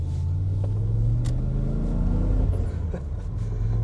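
Holden VN SS car driving on the road, heard from inside: a low, steady engine rumble with a gently rising tone as it pulls along, never revved hard, with a faint tap or two and no talking.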